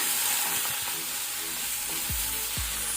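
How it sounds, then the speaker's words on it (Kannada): Tomato and ginger-garlic paste frying in a pan for matar paneer gravy, a steady, close sizzle with a few light scrapes of stirring, no talking. "ಇದನ್ನು ಸಹ ನಾವು ಪುನಃ ಫ್ರೈ ಮಾಡ್ಕೊಳ್ಳೋಣ"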